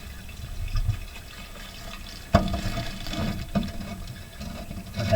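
Water rushing through a residential sewer pipe, a steady wet flow with gurgling that swells suddenly partway through and stays fairly loud, with no talking.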